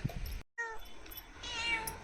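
A cat meows near a home, a short drawn-out cry after a brief gap, faint and close with light household background.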